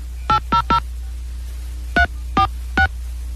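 A touch-tone telephone keypad is dialed during a 1993 radio broadcast: a quick cluster of three tones, a pause, then three more spaced tones over a steady low hum.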